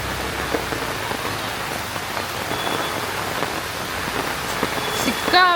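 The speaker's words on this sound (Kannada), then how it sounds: "ಸಿಕ್ಕಾಪಟ್ಟೆ ಜೋರು ಮಳೆ ಬರ್ತಾ ಇದೆ ಆಯ್ತಾ." Heavy rain pours down outdoors on a farm, a loud, dense and continuous hiss of drops striking surfaces nearby, holding steady throughout with no voices.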